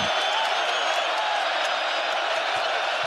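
Basketball arena crowd at an Arizona NCAA game, a steady broad roar of cheering and whooping that holds loud and continuous throughout, with no talk.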